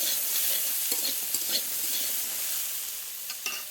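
Pumpkin and radish sizzle steadily in a hot pan while being stirred, with a few soft scraping clicks standing out over the continuous frying hiss.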